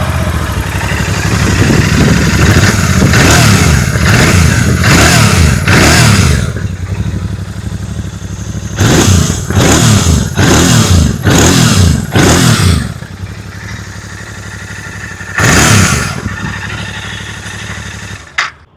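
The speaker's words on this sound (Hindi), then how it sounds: "आइए अब सुन लेते हैं इस बाइक की एग्जॉस्ट नोट।" A 2026 Royal Enfield Continental GT 650 Twin rumbles loudly at close range, its exhaust rising and falling through several sharp revving bursts between lumpy idle stretches, with no talking.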